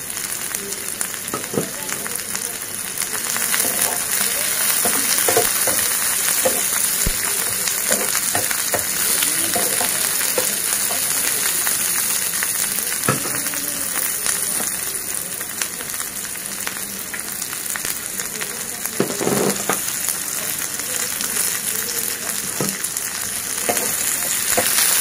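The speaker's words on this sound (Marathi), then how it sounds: "आणि या कांद्यामध्ये मी हे जे खडे मसाले आहेत ते सुद्धा आता घालणार आहे." Whole spices fry in onions for a Maharashtrian mutton dish, giving a continuous close sizzle with occasional stirring scrapes throughout.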